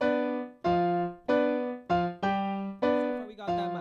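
Piano playing a merengue chord pattern, separate struck chords in a bouncy rhythm, each ringing briefly before the next, played clearly and close with no talking.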